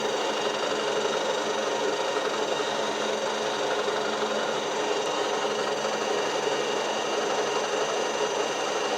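A lathe runs a continuous cut while machining a slitting saw arbour, giving a steady, unbroken mechanical whir and hiss at constant loudness from start to finish, with no talking over it.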